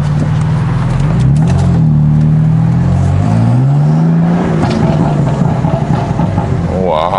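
A BMW M4 fitted with carbon fiber parts revs close by, its engine note rising and falling through several throttle blips, loud and throaty, with a voice in the background.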